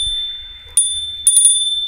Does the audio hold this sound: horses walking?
no